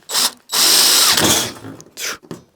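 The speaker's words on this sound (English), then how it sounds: "just use a zip screw, which goes through it real quick, and that's all you need." A power drill drives a self-tapping zip screw through sheet metal HVAC ductwork, several loud whirring bursts with short pauses between, close up and with no talking.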